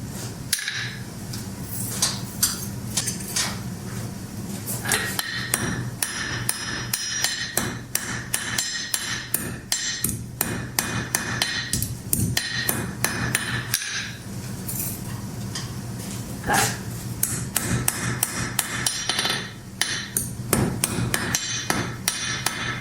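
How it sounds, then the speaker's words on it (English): Hammer blows ring out steadily on an iron ring being forged thin with a taper, striking in quick, close, loud rhythmic bursts with a few short pauses, metallic clinks between hits. "I can forge these relatively thin, a bit thicker here at the center, but making a taper, so it's quite thin here."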